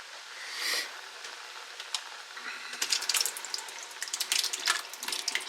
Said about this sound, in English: Now, the next thing we're going to add is 1 whole jar of paste picante sauce.